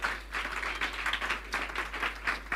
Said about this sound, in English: A round of applause for the wonderful guys at Google.